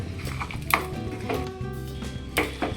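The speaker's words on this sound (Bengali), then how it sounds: "এই যে সব মশলা টশলা দিয়ে এইটা এবার মাখা হচ্ছে, মা মাখছে।" Mutton being mixed by hand with spices and chili powder in a pot for mutton biryani, giving soft squelches punctuated by a few sharp clinks against the pot.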